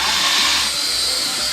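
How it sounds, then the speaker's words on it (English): A DeWalt power drill whines steadily at high speed, loud and close, with a constant buzzing motor tone for over a second and no pauses. "why is the Shinabe using a DeWalt drill?"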